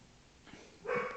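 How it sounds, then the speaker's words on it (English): A dog barks once, quick and muffled, from another room in the background near the end of a quiet moment. "Sorry if you can hear my dog barking in the background."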